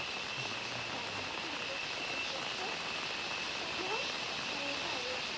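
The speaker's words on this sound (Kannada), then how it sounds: "ಮತ್ತೆ ಮಳೆ ಸ್ಟಾರ್ಟ್ ಆಯಿತು ನೋಡಿ" Rain coming down over a coffee plantation beside paddy fields, a steady, even hiss that fills the whole stretch with no breaks, with faint scattered sounds beneath it.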